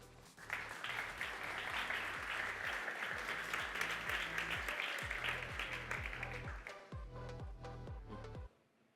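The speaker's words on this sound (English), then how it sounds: "Big applause for him." Audience applause at a game development demo day, dense steady clapping that fills most of the clip under pulsing background music, then stops abruptly near the end.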